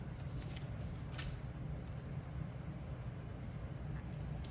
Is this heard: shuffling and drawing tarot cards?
yes